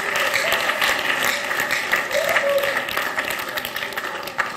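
A church congregation claps steadily through a Sunday service: a dense, continuous patter of many hands, close and fairly loud, with no talk over it.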